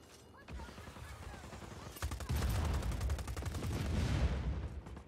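Rapid automatic gunfire in Just Cause 4, a loud sustained burst of close, evenly spaced shots following some quieter earlier ones.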